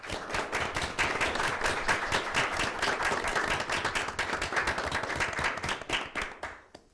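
Audience applause for the coaches at a JROTC academic bowl championship game, dense rapid clapping from a crowd indoors, steady and fairly full for several seconds before tapering off and stopping at the end.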